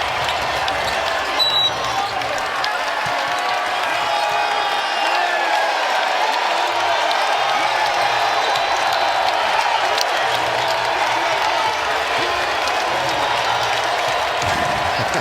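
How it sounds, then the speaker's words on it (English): A basketball arena crowd at a Minnesota Timberwolves game roars loudly and steadily, cheering and applauding in a dense, sustained wall of noise that barely dips across the whole stretch. "how about the volume out of the crowd when you crank it to 11?"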